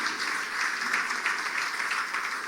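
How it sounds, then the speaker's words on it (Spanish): A church audience at a Bible teaching session gives a steady, moderately loud round of applause, continuous throughout with no pause. "Un aplauso una vez más"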